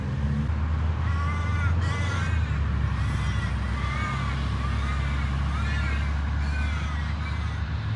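Crows caw repeatedly in harsh bursts over steady low traffic rumble near a roundabout on a cold morning in Australia, the calls moderately near and overlapping.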